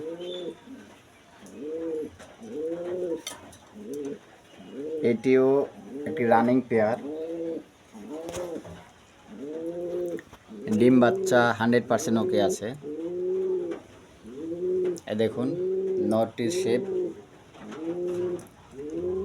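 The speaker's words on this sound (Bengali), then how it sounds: "দেখতে পাচ্ছেন এক জোড়া ব্লু বার বিউটি হোমা" A pair of blue bar beauty homer pigeons coo repeatedly and close by, a steady rhythm of low rolling coos that carries on throughout while someone talks over them.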